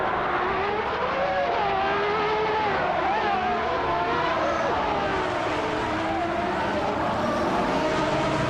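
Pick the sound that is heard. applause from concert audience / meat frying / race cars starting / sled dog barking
race cars starting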